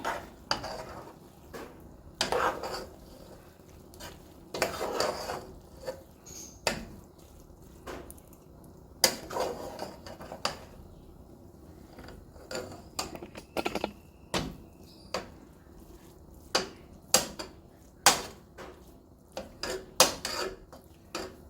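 Mussel rice being stirred in a pot, irregular close clacks and scrapes of a spoon against the metal with soft squishing of the rice between them, quiet and intermittent throughout.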